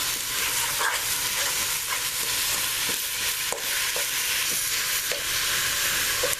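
Ground beef and sweet Italian sausage brown for chili in a pan, giving a steady loud sizzle, with occasional soft scrapes and taps of a utensil stirring and breaking up the meat.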